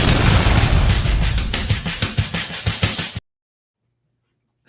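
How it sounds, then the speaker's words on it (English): A cannon blast sound effect, a loud rumbling boom with rapid pulsing bursts for about three seconds, then an abrupt cut to silence. "how does a slaughter cannon sound?"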